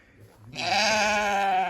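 A single Chios sheep lets out a loud, drawn-out bleat close by, following a moment of quiet.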